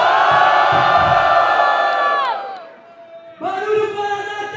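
A live crowd at a Brazilian freestyle rap battle cheers and shouts for a contestant, a loud sustained roar that briefly dips before swelling again, with an MC's voice over it.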